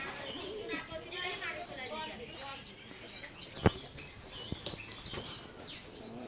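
Oman blood line teddy pigeons, a pair kept in a loft, cooing softly amid chirps and brief wing flaps, with a sharp knock partway through and faint background noise.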